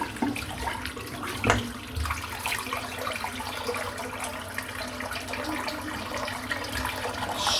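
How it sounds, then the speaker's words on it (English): Lathery shaving water drains from a full sink, a steady gurgling wash of water with small splashes and bubbling, close and moderately loud throughout. "I'm going to empty the sink out because it's full of lather."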